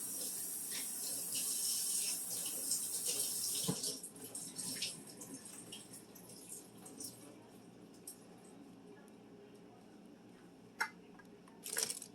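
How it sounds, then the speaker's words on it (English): Canned peas being drained in a kitchen sink, a steady close water pour and splash that eases off partway through, followed by faint clatters and a couple of sharper knocks. "I'm going to drain the peas."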